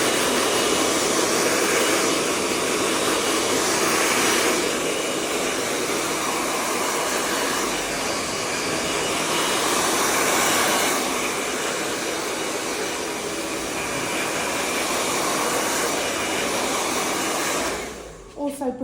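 Hair dryer on medium heat blowing a hair topper dry, a loud, steady broadband whoosh running continuously for most of the clip before cutting off near the end, with no talking.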